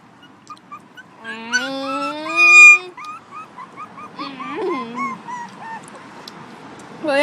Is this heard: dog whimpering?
yes